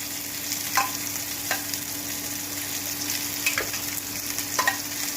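Jackfruit curry with potatoes cooking in a pressure cooker, with a steady frying sizzle and a few soft stirring scrapes at intervals. Water is being added. A low hum runs underneath.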